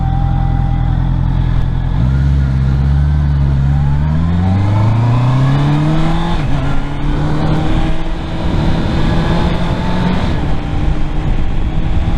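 A Honda CBR650R motorcycle engine revs while riding, its loud, close tone sweeping upward through rising gears and holding a strong steady drone, with wind rush underneath.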